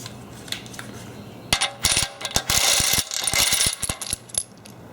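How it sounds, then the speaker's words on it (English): A ratchet working a bolt out of a Mazda/Ford 2.0/2.3/2.5 engine during timing work: quiet at first, then a close, rapid run of sharp metallic clicks in uneven bursts, with no talking. "So what I'm going to do is take the bolt out all the way."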